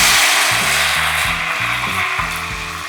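Wheat-flour ghevar batter poured spoonful by spoonful into hot oil, sending up a loud, steady frying hiss that bubbles continuously, heard up close, with a low humming tone underneath.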